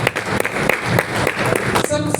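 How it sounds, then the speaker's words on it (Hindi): An audience at a farmers' sugarcane training session applauds, with dense, steady clapping throughout and a voice over it at the end. "सर के लिए जोरदार तालियां होनी चाहिए"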